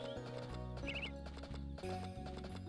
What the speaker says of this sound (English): Follow the horse.